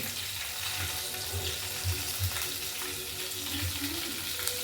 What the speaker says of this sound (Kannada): ಸಾಸಿವೆ ಒಂದು ಸ್ಪೂನ್ ಜೀರಿಗೆ ಹಾಕ್ಕೋತಾ ಇದ್ದೀನಿ